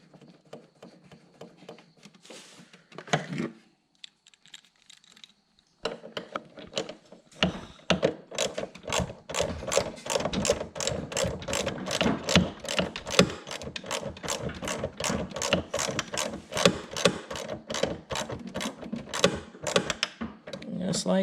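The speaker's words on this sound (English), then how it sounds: "Then at that point, we're going to put our 10mm nut back on." A ratchet tightening a 10mm nut while HID headlights are fitted to a C5 Corvette: a long run of fast, even clicks close to the mic after a few scattered handling knocks, with someone talking intermittently.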